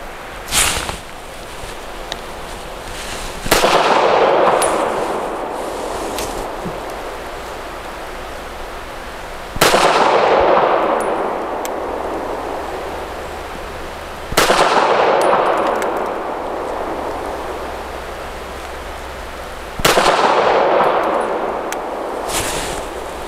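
Smith & Wesson Equalizer handgun firing Ammo Inc. Stealth 165 grain rounds at an outdoor range, heard as four loud, sharp reports spaced several seconds apart, each trailing into a long decaying echo.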